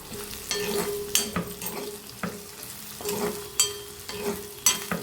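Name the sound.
frying bitter gourd with turmeric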